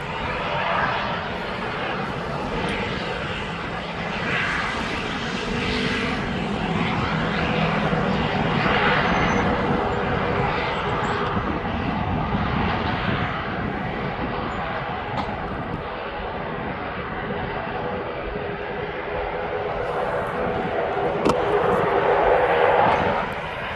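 A jet airliner taxis onto the runway at East Midlands Airport, its engines producing a loud, steady roar and whine that holds throughout with little change, heard from a moderate distance outdoors.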